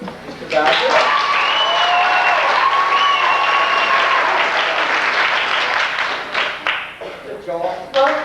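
Theatre audience at a 1992 Villagers staging of The Mystery of Edwin Drood applauds to vote for a character, a loud sustained ovation lasting several seconds before fading as a voice and music take over.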